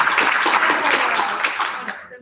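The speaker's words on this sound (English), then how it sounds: "Give a round of applause." An audience claps in a round of applause after a talk, a dense burst of close handclaps that gradually thins out and fades over about two seconds.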